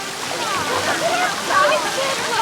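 A continuous wash of splashing water in a children's paddling pool at a swimming pool fills the background while children's voices chatter over it.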